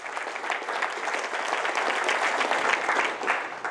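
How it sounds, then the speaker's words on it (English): At a leadership summit, an audience gives a warm round of applause, many hands clapping steadily and densely at close range with no speech over it, swelling slightly near the end. "deserves another round of applause"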